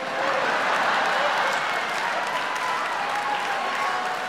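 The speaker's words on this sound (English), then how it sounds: "That's what the audience sounds like to me." A stand-up comedy show audience bursts into dense, sustained applause and crowd noise, a steady wash of clapping and cheering that holds at an even level throughout.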